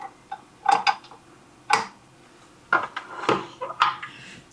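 A wire whisk beats 3 pints of heavy cream in a bowl for homemade butter, giving irregular clattering bursts of metal against the bowl's side, some quick doubled knocks, close and fairly quiet with pauses between strokes.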